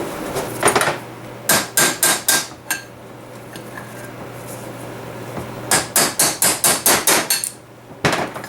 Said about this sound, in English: We can knock this bearing out too.